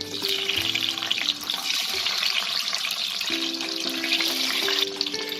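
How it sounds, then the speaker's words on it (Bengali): Boiled eggs fry lightly in hot ghee and oil, giving a steady hiss and sizzle that stays fairly even throughout, with soft background music playing underneath and no talking. "এই ডিমগুলোকে হালকা করে একটু ফ্রাই করে নেব।"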